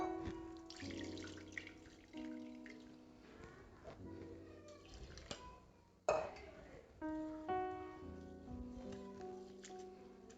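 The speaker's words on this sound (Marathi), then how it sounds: "1-2-3 पाण्याने तांदूळ धुवून घ्यायचे" Rice being washed by hand in water in a home kitchen, prepared for traditional anarse made with jaggery and ghee; steady splashing and tap-like water sounds run throughout, with intermittent sharper sloshes and a loud splash partway through.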